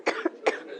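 Two short, sharp coughs from a person, close and distinct, one right after the other with a brief pause between them.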